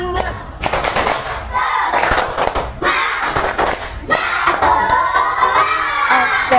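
Students in a classroom clap together in rhythmic bursts of a spirit cheer, loud and crowded, with shouted voices mixed among the claps and short pauses between sections.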